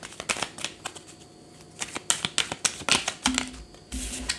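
Tarot cards being shuffled by hand, a rapid series of crisp riffling snaps and taps, close and fairly quiet, ending with a few softer thuds as cards drop.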